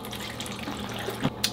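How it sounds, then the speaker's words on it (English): Hot water running from a shower, a soft steady splashing hiss with a couple of brief louder spatters near the end, fairly faint and heard on its own. "you don't want to stop being in the shower because you love the hot water"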